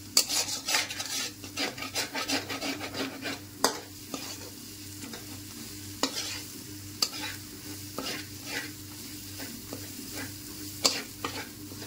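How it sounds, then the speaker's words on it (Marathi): Chicken masala spices sautéing in oil in a pan, with rapid rhythmic scraping stirs at first, then slower scattered scrapes and knocks over a continuous close sizzle. "ह्याला पण मी चांगलं जोपर्यंत तेल सुटत नाही तोपर्यंत असंच परतून घेणार आहे"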